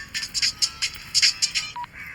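A telephone ringtone plays in a Hindi dubbed film scene, a rapid series of bright electronic chirps in quick pulses, fairly loud and alone, ending in a short tonal beep.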